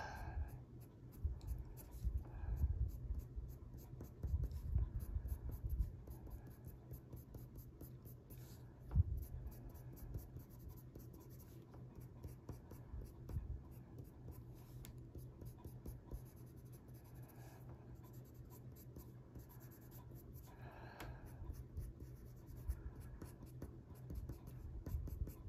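Colored pencil scratches steadily across a paper greyscale coloring page of sunflowers and foliage, a continuous soft rasping of close, fairly quiet strokes with brief pauses and a few sharper taps.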